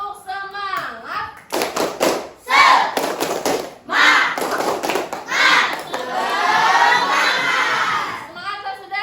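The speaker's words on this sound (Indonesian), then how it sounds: "Tepuk semangat." An Indonesian sixth-grade class does a rhythmic spirit clap in the classroom, bursts of patterned clapping and thumps alternating with children's loud chanting and shouting, close and energetic.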